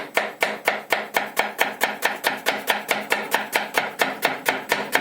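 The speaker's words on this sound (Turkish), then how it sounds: "Soğanımızı bolca doğruyoruz." An onion finely chopped with a knife on a board, a loud close run of evenly spaced sharp chops at about four strokes per second with no talking.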